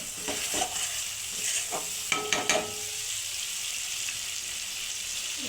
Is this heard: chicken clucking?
no